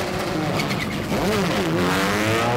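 Rally car launching from the start of a super special stage on tarmac while fitted with gravel tires, engine revving up and rising in pitch with tire noise, heard at a moderate distance.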